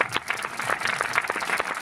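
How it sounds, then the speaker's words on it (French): Audience at a French film presentation claps for the child actors on stage, a short burst of scattered, moderately quiet applause with individual claps distinct rather than a dense roar. "Vous pouvez aussi applaudir, s'il vous plaît."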